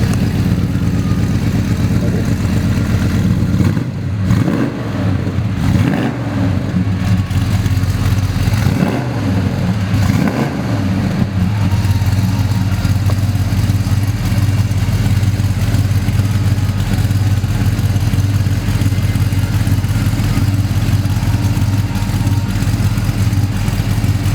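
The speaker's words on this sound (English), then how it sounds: "So we have the car running. It's been running for a while with the new motor on it." A loud 1969 Ford Torino GT with a 351 Windsor V8, long-tube headers and 2.5-inch Dynamax mufflers idles steadily with a deep rumble, rising in a few sharp revs early on before settling back to a constant throb.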